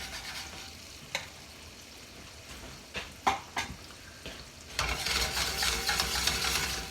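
Chicken pieces laid one by one into a hot sauté pan for chicken Marsala, a few sharp placements each setting off sizzle that swells into a loud, steady frying hiss.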